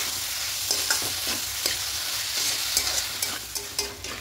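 Papaya curry being stirred and mixed in a sizzling pan, with a spatula scraping and tapping against the metal in irregular strokes over a constant close frying hiss.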